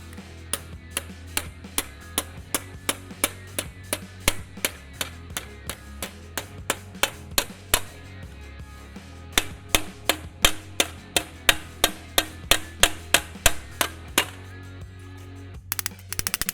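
Sheet metal rings under a long run of sharp hammer blows as a flange is hammered over, struck at a steady pace close by, with no voices.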